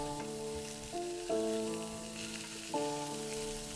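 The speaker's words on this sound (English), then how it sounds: "smash that burger down, flatten it out to roughly the size of your bun." A burger patty sizzles loudly on a hot grill as it is smashed flat, a steady crackling fry with a few sharp scraping clanks from a spatula against the metal.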